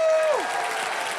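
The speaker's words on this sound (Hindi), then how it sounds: "जोरदार तालियां मेरे लिए।" A studio audience on the Hindi Wheel of Fortune game show claps in a broad wash, while a sustained musical tone bends downward at the start and a steady noisy roar of clapping carries on to the end.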